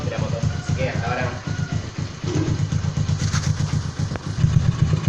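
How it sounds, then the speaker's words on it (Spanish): A motorcycle engine runs close to the exhaust, its rhythmic, lumpy thumping idle pulsing steadily with occasional clattering, while someone talks over it. "Ahora le voy a hacer unas tomas con el escape acá y así pueden observar los cortes y todo eso de la moto."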